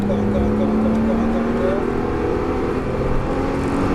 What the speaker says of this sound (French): Allez, gaz à fond.